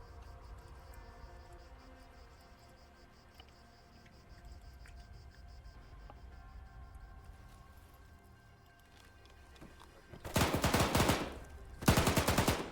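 Gunfire in Arma 3 ends a quiet stretch with two loud, close bursts of rapid shots, the first longer, the second brief.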